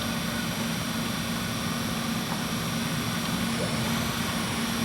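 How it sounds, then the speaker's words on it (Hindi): The work head of a heavy-duty WMW SI 400 x 500 internal grinding machine runs at 32 RPM, a steady, even mechanical hum and whir with a faint tonal drone, close and unbroken throughout. "We have increased the speed of the work head."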